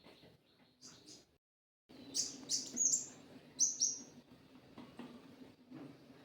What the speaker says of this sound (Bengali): দুইটা পাখি সবসময় জানালার সামনে আয়া কিছু কিছু করে, খুব ভালো লাগে।